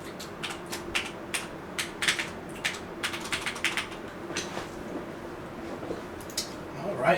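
A password being typed on a computer keyboard: quick, irregular bursts of light key clicks at close range, with a soft background hum.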